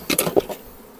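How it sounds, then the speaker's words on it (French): Close buzzing of honeybees in short, uneven bursts that fade out after a moment, with no talking. "attention de ne pas écraser des abeilles là."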